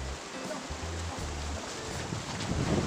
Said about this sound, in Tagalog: Hampas ng mga alon.